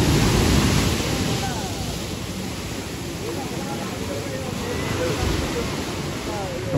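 Sea waves surge at high tide on the new-moon shore right beside the Kunkeshwar temple during the Mahashivratri fair, a steady broad wash of surf with wind rumble that stays loud and close throughout.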